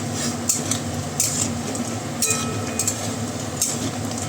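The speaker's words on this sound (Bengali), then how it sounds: "তো বড়িটা আগে ভেজে নেবো লাউ দেওয়ার জন্য ভেজে তুলে রাখবো" Homemade lentil bori frying in a pan, a steady loud sizzle with occasional clinks of a utensil stirring against the metal.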